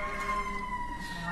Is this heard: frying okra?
no